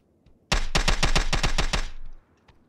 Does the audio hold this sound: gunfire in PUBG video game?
yes